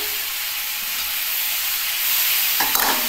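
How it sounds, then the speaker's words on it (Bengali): Cauliflower frying in a pan, a steady loud sizzle and hiss of hot oil with a brief stirring scrape near the end, no voices. "আর এই যে ফুলকপিটাও আমি এর মধ্যে দিয়ে দিলাম"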